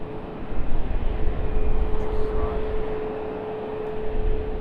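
An Icelandair Boeing 737 Max 9 jet airliner roars past at Raleigh Durham International Airport at night, a broad steady engine rumble with a faint whine holding loud throughout.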